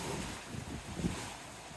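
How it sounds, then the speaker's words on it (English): Steady high wind roars and buffets against a Nordisk Svalbard PU tent's fabric, with gusty swells and low rumbling flaps, and no voices. "Yeah, it's windy."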